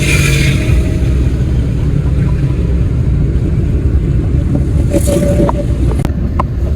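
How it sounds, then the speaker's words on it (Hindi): Manual car in third gear pulling steadily along, a continuous close engine drone with road and tire rumble filling the whole stretch, plus a few faint clicks near the end. "आप देख सकते हैं कि यहाँ से ये दूसरे गेयर से अब हमने तीसरा गेयर कर दिया"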